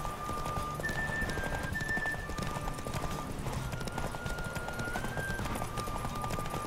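A horse gallops in The Witcher 3, its steady rapid hoofbeats carrying evenly throughout, moderately loud, with a thin high tone held above them and no talking.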